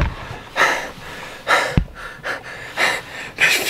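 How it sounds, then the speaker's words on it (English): Heavy, labored breathing at high elevation on Pikes Peak, with a series of loud breath bursts roughly every second, each a rushing exhale or gasp, close and without speech. "So at elevation, there's not as much oxygen. We're so out of breath."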